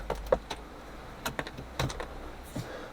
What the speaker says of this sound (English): It's just peeling off. Look, snapping off.